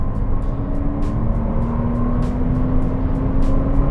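A car engine accelerates hard in a Porsche versus BMW race, a loud, steady, close drone whose pitch climbs gradually, with faint regular ticking throughout.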